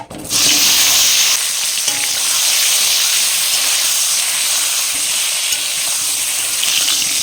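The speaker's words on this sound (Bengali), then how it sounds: "তেল গরম হয়ে গেছে, গরম তেলে বেগুনগুলো দিয়ে দেবো।" Brinjal pieces sizzling and frying in hot mustard oil, a steady close hiss that starts abruptly and carries on without a break, with faint stirring clatter and no talk.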